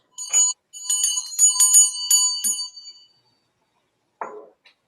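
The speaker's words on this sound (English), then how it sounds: "and the ringing of the bell." A bell at a church service rings out clearly, several bright strikes in quick succession with a lingering ring, then a single softer strike after a short silence.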